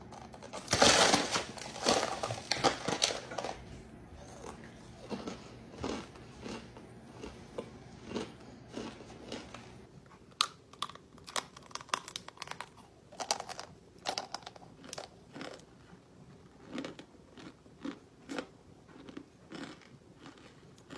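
Close, loud crunching bites into a brick of Argo cornstarch, a rapid burst of dense crunches at first, then slower, scattered crisp chewing crackles with no talking.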